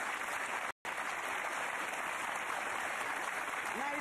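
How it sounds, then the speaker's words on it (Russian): Studio audience applause on a British quiz show, a steady dense wash of clapping that briefly cuts out near the start and then carries on evenly. "Аплодисменты."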